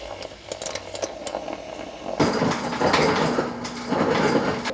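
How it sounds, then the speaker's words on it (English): A handheld frother whirs into instant coffee mixed with maple syrup and hot water, switching on partway through with a loud, steady buzzing hum that persists close by after some quieter kitchen clatter. "Then we froth."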